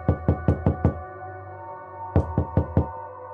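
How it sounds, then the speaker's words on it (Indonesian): Knocking on a door: a quick run of five sharp, solid raps, a pause of about a second, then four more, close and loud with nothing else around them. "ada orang ketok pintu"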